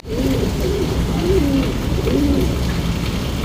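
A pigeon coos in soft, repeated rolling calls, close by, over a steady background hiss.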